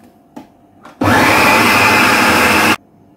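An electric blender grinds a mint chutney mixture in one loud, steady whirring burst of nearly two seconds, preceded by a couple of faint taps and followed by quiet.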